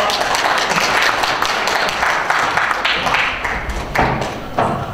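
Audience applause at a Korean shopping-street merchants' association chairperson inauguration ceremony, a steady dense wash of clapping across the whole stretch with occasional louder taps and thuds, fairly close and continuous.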